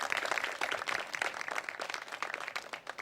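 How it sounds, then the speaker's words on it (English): Audience applause after a call to honour a domestic-violence survivor at a police department announcement, dense steady clapping from a crowd filling the whole stretch at moderate level without talk. "Can we give her a round of applause again?"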